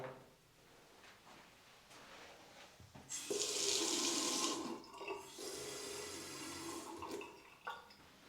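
A kitchen sink tap in a newly renovated apartment is turned on, water gushing in bursts with short pauses between, close and fairly loud, with some clunks of handling.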